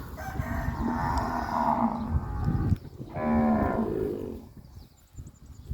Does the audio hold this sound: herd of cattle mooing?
yes